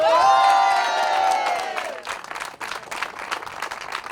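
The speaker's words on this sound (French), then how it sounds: "Applaudissements pour Aurore, Marie-Ange et Elisa" A crowd at a rally stage event in Rouen claps and cheers, with a long whistle or horn-like tone at first, then the clapping continues more loosely and unevenly.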